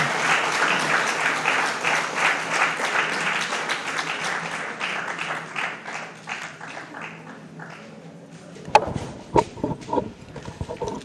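Audience at a book launch applauds loudly and steadily, the clapping slowly thinning out before a few scattered claps and murmurs near the end.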